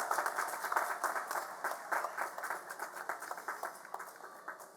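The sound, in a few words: applause for graduates at college commencement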